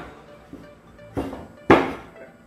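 A knife is forced through a hard butternut squash to split it in half on a kitchen board, giving a few sharp thunks and cracks, the last one loudest, with no talking.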